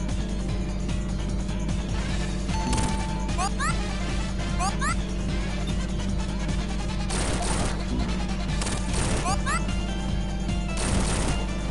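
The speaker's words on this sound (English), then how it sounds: "I'm sorry about the construction noise you might still be hearing." Construction noise in the background, with repeated bangs and crashing clatter in bursts over a steady low rumble, sitting behind game sound and talk.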